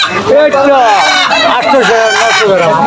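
Roosters and chickens at a village market cluck and squawk loudly nearby, several birds at once in a busy, continuous chorus with overlapping calls.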